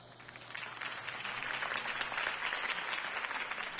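Crowd applause at a campaign speech in a Batman video game, a steady wash of clapping that holds at an even level for the full few seconds with no voices over it.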